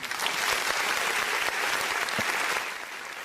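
Studio audience clapping on a Brazilian talk program, a dense, steady burst of applause that holds for about three seconds before easing slightly at the end, with no voices over it.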